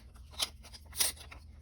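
Scissors snip through paper while cutting a snowflake border for a handmade card, giving two distinct crisp cuts close by in a quiet room.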